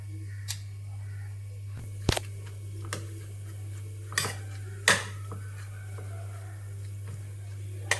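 A spoon mixes chopped cabbage into beaten egg in a bowl for an omelette, making a few scattered clinks and scrapes against the bowl over a steady low hum.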